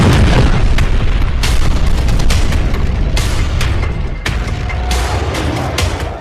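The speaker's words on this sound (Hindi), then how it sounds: "तेल अवीव में इस ड्रोन ने अपने टारगेट पर बड़ा धमाका किया" An explosion from a drone strike on a target in Tel Aviv comes through as a loud, dense barrage of sharp bangs and booms over a constant rumbling roar, with no talking.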